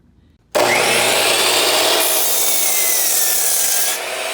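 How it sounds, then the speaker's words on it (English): Power saw cutting pallet wood for workbench legs, starting abruptly after a brief quiet moment and then grinding on loudly and steadily, with a shift in pitch partway through the cut. "I'm going to go ahead and cut our legs at 31 inches."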